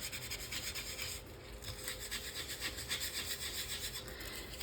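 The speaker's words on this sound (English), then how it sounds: "so I'm going to sandpaper a little bit" Sandpaper rubs against small glossy paper tags in quick, even back-and-forth strokes, a faint, steady scratchy hiss heard close up with no voices.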